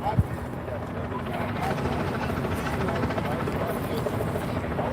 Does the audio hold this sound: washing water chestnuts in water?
no